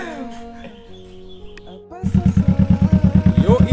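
An expensive sport motorcycle revving and riding nearby, a throbbing engine with fast pulsing exhaust beats that kicks in loudly partway through after quieter background noise with chirps and brief talk.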